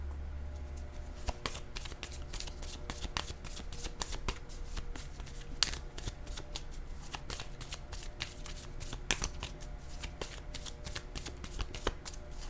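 A deck of tarot cards is shuffled steadily by hand for several seconds, a soft continuous patter of sliding and flicking cards. The sound is quiet and close, with a low hum underneath and no talking.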